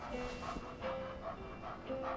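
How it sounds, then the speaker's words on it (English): Quick rhythmic panting from a puppy in Life is Strange 2, soft breathy pulses repeating steadily over a low background hum, close and moderately quiet. "It's a puppy."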